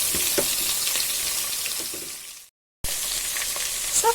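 Carrot, onion, tomato, potato and chilli fry in a pan with a steady close sizzle and light crackles. The sound cuts out briefly partway through, then resumes.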